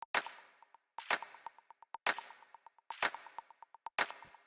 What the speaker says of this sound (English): the last thing I'll show you here is sort of like the percussion stuff